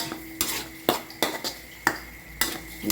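Stir-frying in a pan with water and oil for a coconut pork and sweet potato curry: a utensil scrapes and clanks against the pan in sharp, irregular strokes, close by with no talk.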